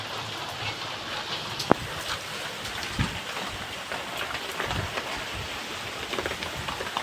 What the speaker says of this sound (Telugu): మాకు అయితే వర్షం స్టార్ట్ అయింది, పెద్దగా పడుతున్నాం